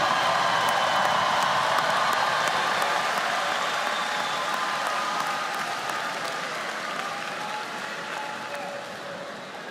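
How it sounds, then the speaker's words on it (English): Sustained, dense applause from a large audience at a spring university commencement ceremony, steady and even, fading slightly toward the end with occasional whoops. "Y'all better give this man a round of applause."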